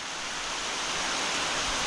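Heavy rain pours down in a dense, steady hiss with no gaps, filling the scene evenly at a moderate level without voices.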